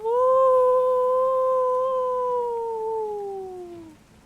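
A long, drawn-out howl carries from a distance, holding a steady tone and then sliding gradually downward as it fades away, alone in an otherwise quiet scene.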